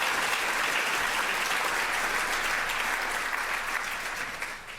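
Guests at an anniversary gala dinner applaud together in a dense, steady round of clapping, close and fairly loud, fading slightly near the end with no speech over it.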